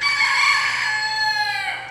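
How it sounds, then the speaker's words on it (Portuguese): A rooster, the mascot of a samba school's carnival workshop, crows once loudly and close, a long drawn-out call that fades at the end. "o galo, veio para ficar uma semana, mas caiu nas graças da escola e já canta aqui há 7 meses"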